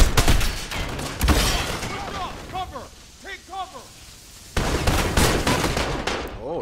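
Loud bursts of automatic gunfire from the video game Call of Duty Modern Warfare, with shouting voices between volleys and a brief lull before the firing resumes.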